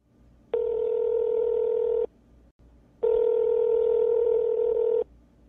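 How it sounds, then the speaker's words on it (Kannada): A telephone being dialed to place a call gives two long, steady electronic keypad tones, each lasting about one and a half to two seconds, separated by a short gap. No voices are heard. "ನಮ್ಮ ಶಿಷ್ಯಂಗ ಒಂದು ಫೋನ್ ಮಾಡೋಣ"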